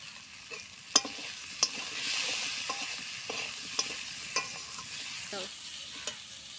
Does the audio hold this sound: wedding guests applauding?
no